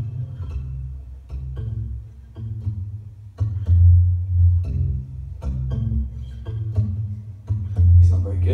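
Looped bass line of low, repeating plucked notes in a steady groove, moderately loud and unaccompanied, with no talk over it.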